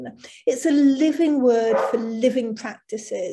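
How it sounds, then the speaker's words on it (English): A dog barks off to the side while a person keeps talking steadily over it; the barks are partly masked by the voice and spread across the few seconds. "Sorry about my barking dog."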